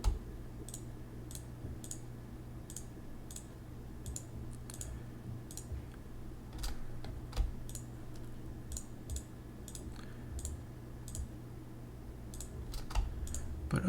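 Quick computer mouse clicks sound close and faint during 3D character modeling of a cape and fur lining, coming in irregular bursts over a quiet room hum.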